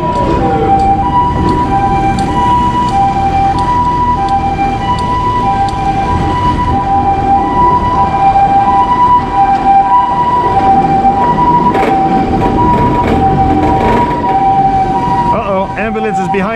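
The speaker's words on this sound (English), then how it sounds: "Uh-oh, there's an ambulance." An ambulance siren wails continuously amid traffic rumble on an Osaka street, fairly close and loud, holding a steady repeating tone for the whole stretch.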